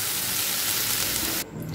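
Onions and spices sautéing gently in a pan for Tamil-style onion kara chutney, a steady close sizzle and hiss that continues unbroken, then shifts slightly in tone near the end.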